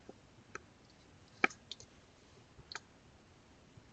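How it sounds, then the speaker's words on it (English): Sparse, crisp computer mouse clicks, about half a dozen spread unevenly, one sharper and louder than the rest, close up against a quiet room hiss. "we can simply click on the letter M to find MEDLINE"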